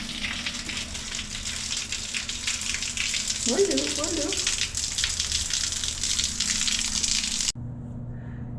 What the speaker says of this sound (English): Hopefully the water is hot though.